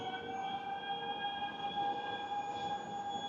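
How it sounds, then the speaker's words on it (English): Steady tonal whine and rumble of a regional train in Oslo, heard from on board as a continuous, fairly loud hum with no speech. "And we're getting the regional train."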